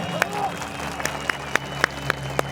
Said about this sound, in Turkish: Seyirciler moral alkışı geliyor Akif Şimşek'e